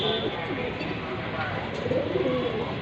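A Chuina Chuithal pigeon pair with muffed feet softly cooing, low rolling calls under steady background noise and someone talking over them.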